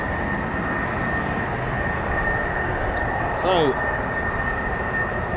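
A military fighter jet, F-35 or F-15 of the 48th Fighter Wing, departs RAF Lakenheath as a steady, broad roar that holds throughout, with a person speaking briefly over it.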